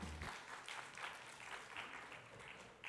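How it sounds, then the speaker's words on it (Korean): A young adults' church worship congregation gives another round of applause. The clapping is faint and continuous and sounds somewhat distant, with a brief low thud at the start. "우리 다시 한번 큰 박수 부탁드리겠습니다."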